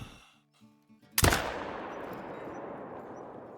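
A hunting rifle fires one loud, sharp shot uphill in Call of the Wild, with a long rolling echo afterward. A few faint clicks come just before it.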